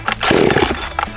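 A chainsaw bought from Bed Bath & Beyond, already warmed up, catches and revs briefly, a loud rough engine burst of about a second that drops off near the end.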